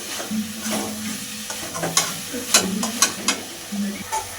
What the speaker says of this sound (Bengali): গুঁড়ো আমল দুধ তো আমল দুধটা দিয়ে ভালো করে আবার মিশিয়ে নিতে হবে